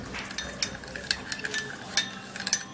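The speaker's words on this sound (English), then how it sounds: "You mix it, but not mix it too much so that it won't actually dissolve all of the sugar particles" Lemon juice being stirred into sugar with a spoon, giving light, irregular clinks and scrapes against a bowl at close range, no voices.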